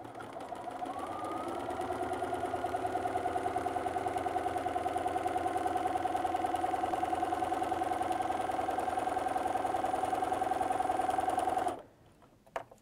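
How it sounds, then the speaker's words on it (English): Sewing machine fitted with a walking foot stitching lines across a quilt, a steady rapid mechanical hum with rhythmic needle ticking that runs for about twelve seconds, then stops abruptly into near silence with a faint click. "we'll stitch all the way down one side, then all the way down the other"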